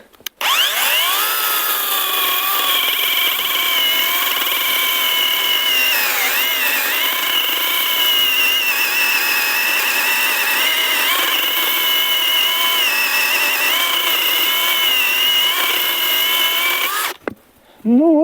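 A ProCraft PKA 42li cordless saw powered by an 8 Ah battery runs continuously at a loud, steady whine for about seventeen seconds, with slight pitch dips under load, then cuts off abruptly near the end.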